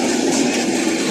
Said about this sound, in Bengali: ট্রেনটি এখন দেওয়ানগঞ্জের উদ্দেশ্যে ছেড়ে গেল।